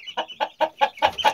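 Caged quails call in a rapid series of six short, sharp chirping notes, close and loud, repeating at an even rhythm.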